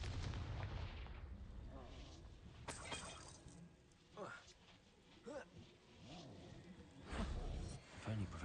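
A Confringo explosive spell in a Harry Potter video game lands as heavy, booming blasts with rumbling low-end bursts near the start and again toward the end, layered over game sounds and a voice.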